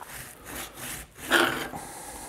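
A screwdriver scrapes old rope seal and glue out of the groove on a wood stove door. Several short, rough scraping strokes sound fairly quietly up close with no talking.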